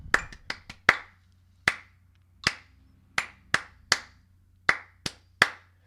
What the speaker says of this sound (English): So what would happen is we'd count like, four beats in, I clap something.